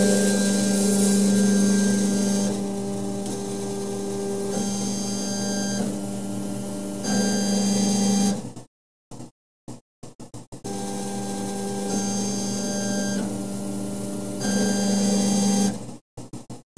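A Chinese K40 laser engraver cuts through 3mm poplar hardwood, its fan and air-assist hum running steadily at close range, dropping out briefly twice between passes before resuming.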